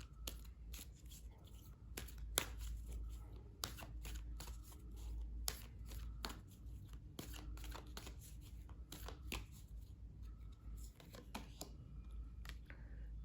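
Affirmation cards being drawn from a deck, with repeated crisp flicks and shuffling snaps scattered irregularly throughout, close and fairly quiet over a steady low hum.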